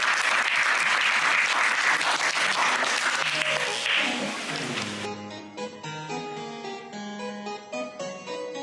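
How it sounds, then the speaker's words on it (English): An audience at an evening stormwater event at the Barnard Nature Center in New Haven, Connecticut claps loudly for the speakers, then the applause fades out as music begins underneath and carries on alone. "Let's have a round of applause for all our great speakers."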